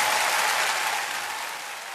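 An audience claps steadily for a candidate announcing a run for county director of elections, a dense applause that fades slightly over two seconds with no voices.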